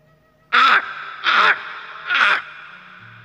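A crow gives three loud, harsh caws spaced about evenly apart, close and clear against a quiet background.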